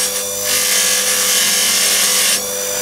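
A bench buffing machine deburrs a bolt thread, giving a steady, close grinding hiss from about half a second in that holds for around two seconds before easing off over the motor's hum.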